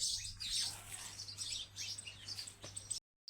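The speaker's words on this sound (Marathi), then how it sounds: "चिव करतात तांदूळ टाकल्यावर" Sparrows chirp busily nearby after rice is scattered for them, a dense overlapping twitter of bright calls over a low steady hum, cutting off abruptly near the end.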